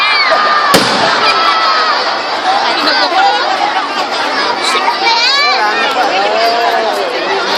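Fireworks crackle and whistle over a noisy outdoor crowd at a Christmas tree lighting in Tayug, Pangasinan, with people talking and shouting throughout and a sharp bang near the start.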